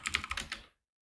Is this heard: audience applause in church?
no